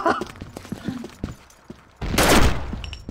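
Pistol gunfire in a shooter video game, a sharp close burst of shots after a quieter stretch of scattered game sounds and thumps.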